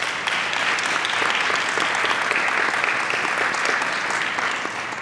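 A crowd at an outdoor Earth Day celebration claps for Alderman Timmy Knudsen of the 43rd Ward, producing dense, sustained applause that stays loud and steady for the whole stretch before easing slightly at the end.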